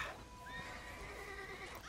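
A horse in the video game Red Dead Redemption lets out a long, wavering whinny close by, rising and falling for nearly two seconds over a faint background murmur.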